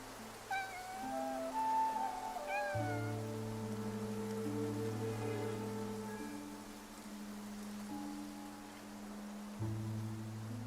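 A cat in the video game Infinity Nikki meows several times in quick succession near the start, high and wavering, over gentle background music and faint rain, then falls quiet.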